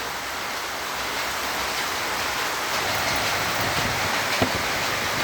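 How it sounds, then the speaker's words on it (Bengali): Heavy afternoon rain pours onto a balcony as a dense, steady hiss, with occasional louder drips and splashes close by and no voices. "দুপুরবেলায় বৃষ্টি চলে এলো হঠাৎ করে বেলকনিটা কীরকম ভিজে গিয়েছে"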